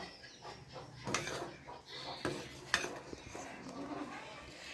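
Ginger and spice milk tea being stirred in a pot after the tea leaves go in, with scattered metal clinks and scraping of a spoon against the pot over a low kitchen background, no talking.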